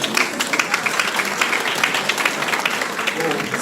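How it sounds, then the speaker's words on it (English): Audience at a Grade 11 high school graduation ceremony applauds, a sustained wash of many hands clapping at steady volume with a voice speaking over it. "so you wouldn't clap if I never said that"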